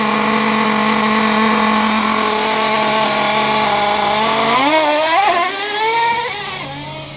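Traxxas 3.3 nitro RC monster truck engine running loud and steady with a high buzzing whine, briefly revving and wavering in pitch near the end as the carburetor is tuned.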